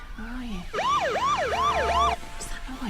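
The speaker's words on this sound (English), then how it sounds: "It's sirens." A wailing emergency siren sweeps up and down in quick repeated cycles, loud and close, cutting in abruptly and stopping just as suddenly, with quieter murmuring before and after.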